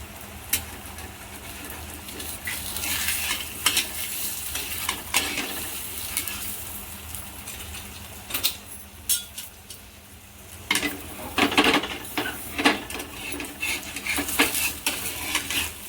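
A multigrain thalipeeth flatbread fries in oil in a pan over low heat, with a quiet steady sizzle under repeated sharp spatula scrapes and clinks against the metal as it is turned.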